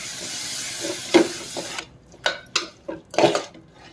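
Spices and yogurt are stirred and sautéed in a pan for paneer pulao: a low sizzle in the background, then a series of close, distinct scraping clatters of a spoon against the pan.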